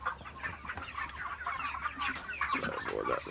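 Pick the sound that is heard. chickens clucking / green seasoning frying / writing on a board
chickens clucking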